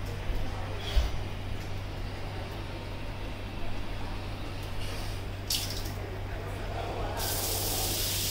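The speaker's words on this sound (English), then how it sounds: "column" A soft, steady hiss of water spraying from a 19x13 ceiling shower in column-jet mode runs throughout, with a few brief louder bursts and splashes near the end.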